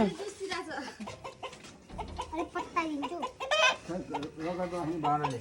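A local rooster clucks close by in a series of short calls, mixed with people talking over it and some background noise.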